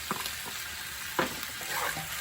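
Green onion being stirred into Sichuan peppercorn chicken frying in a pan, with a couple of distinct scraping strokes over a steady low sizzle.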